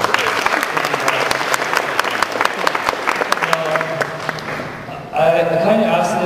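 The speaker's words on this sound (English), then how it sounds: "I want to give you guys a round of applause for that" Audience applause at a BotCon 2011 convention panel with G1 voice actors, a dense crowd clapping steadily for about five seconds before voices and murmuring take over near the end.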